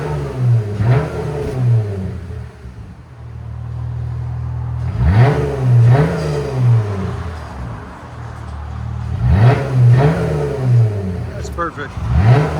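A 2020 Jeep Gladiator pickup with a 3.6L V6 and BIGBOZ 4 aftermarket exhaust, revved in three loud, close bursts that climb and fall back to a deep idle between pulls, with people talking nearby.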